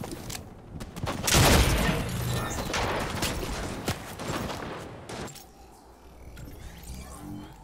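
Rapid bursts of weapon fire in the game Fortnite, loud near shots with mechanical clatter that continue for several seconds before fading into quieter game sounds.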